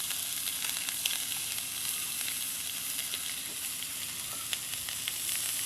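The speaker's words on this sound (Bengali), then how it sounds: "পটলগুলো একটু লাল লাল করে ভেজে নিব" Pointed gourd (potol), salted and turmeric-coated, sizzles steadily in hot oil with a constant crackling hiss and occasional sharper pops, close and unbroken throughout.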